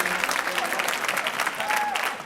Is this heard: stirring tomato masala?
no